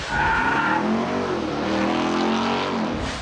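A GMC Hummer EV with 1,000 horsepower launches down the drag strip at Portland International Raceway, a loud, steady roar and whine that holds for about three seconds with no voices.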